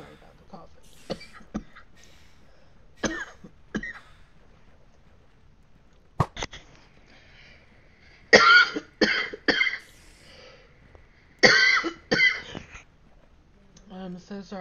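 A gamer at a microphone during a Minecraft session coughs repeatedly, scattered single hacks followed by louder clustered fits of harsh, close coughing, with quiet gaps between them.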